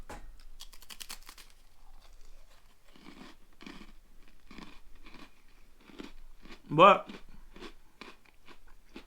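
Close, repeated crunchy chewing in a steady rhythm, loud near the mic, with one brief spoken word.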